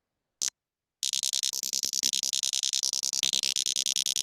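Recorded sperm whale click codas from an exchange between whales, heard as a short lone burst of clicks, then a long dense run of rapid, regular broadband clicks that overlap as if from several animals.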